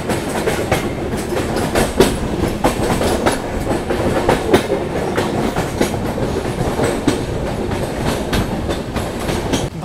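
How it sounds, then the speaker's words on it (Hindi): The Goa Express train moving slowly along the tracks near Dudhsagar, with a steady loud rumble and a continuous rhythmic clickety-clack of wheels over rail joints. "और भाई ट्रेन की रफ्तार देखो कितनी धीमी हो गई है।"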